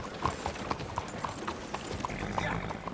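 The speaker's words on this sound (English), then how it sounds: "Trying to bond with the horse." A horse in Red Dead Redemption 2 walks with a steady clip-clop of hooves, its regular beats set against soft ambient game sound.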